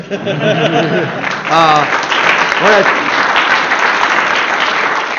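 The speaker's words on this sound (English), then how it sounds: "So you can clap now because my part's over." Tech conference audience breaks into loud, dense applause after a live coding demo; a voice speaks briefly at the start before the clapping swells and holds steady.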